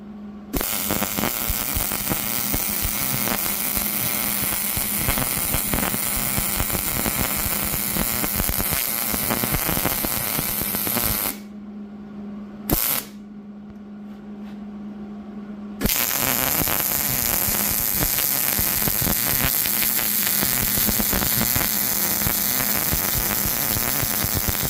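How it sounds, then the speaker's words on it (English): Steady crackling buzz of welding on the front tank plumbing of a Mazda, continuous and loud with a low hum throughout, briefly dropping out for a few seconds before resuming just as strongly. "We'll flip it over, and I'll try and capture welding the other side."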